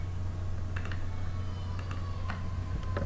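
Scattered keystrokes on a computer keyboard while data is entered into an Excel spreadsheet, a few sparse clicks over a steady low hum, fairly faint.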